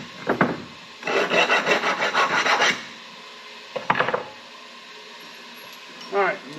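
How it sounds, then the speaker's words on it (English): A small coping file rasps around the inside of a bandsaw cut in a bracket, rhythmic back-and-forth strokes in a short burst, then a few isolated scrapes with pauses. "Take a little coping file and run around the inside where that bandsaw cut it."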